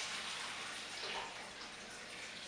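Dirty water gushes steadily from the 2-inch drain hose of a Hurricane 900 XTT 28-inch floor scrubber, a continuous close, hissing rush with no voices.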